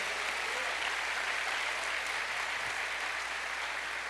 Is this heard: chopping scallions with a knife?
no